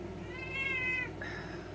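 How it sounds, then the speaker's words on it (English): A cat meows from behind a shut door, giving one drawn-out, rising and falling meow followed by a shorter, muffled call over a low room hum. "Gotta keep the cat trapped."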